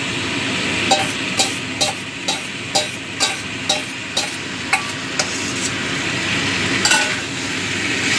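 Prawns frying in a pan, a continuous sizzle punctuated by a regular series of sharp scraping and tapping stirs, about a dozen evenly spaced strokes close by.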